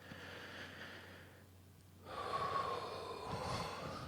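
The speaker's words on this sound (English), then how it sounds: "Nice big deep breath." One slow, deep breath: a soft inhale, a brief pause, then a longer, fuller exhale, close and quiet against faint background hum.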